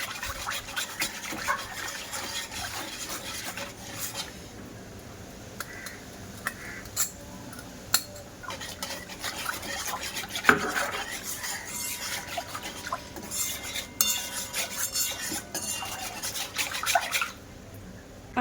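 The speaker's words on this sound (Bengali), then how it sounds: "দিয়ে কর্নফ্লাওয়ারটা বেশ ভালো করে মিশিয়ে নেব এই আমের কাতের সঙ্গে" Cornflour is stirred into a raw mango paste in a bowl, giving a wet, squelchy rubbing and scraping that runs steadily throughout, close and fairly quiet.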